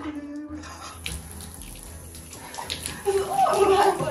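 Tap water runs into a bathtub while a dog is being bathed, a steady splashing rush that grows louder and fuller toward the end, with people talking over it.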